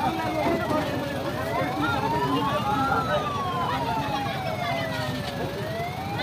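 An ambulance siren wails in slow rising and falling sweeps, loud and continuous, as it moves along a road during a street protest, while people talk over it.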